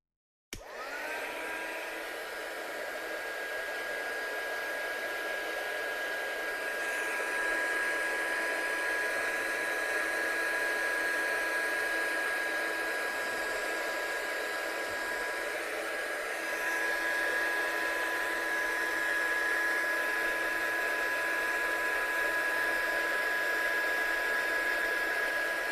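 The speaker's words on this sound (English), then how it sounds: "So I'm going to quickly just blast it off with a heat gun," Heat gun blowing steadily over wet ink on a handmade card, a constant whooshing hiss with a high whine, running unbroken and fairly close for the whole stretch.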